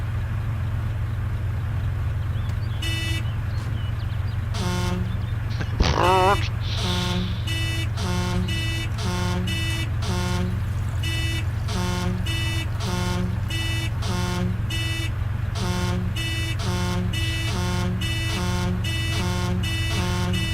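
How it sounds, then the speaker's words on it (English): A car horn in the video game DayZ Epoch honks over and over in short, evenly spaced blasts of different lengths, loud and close above a steady engine drone, with players talking underneath. "The honk is the left mouse button."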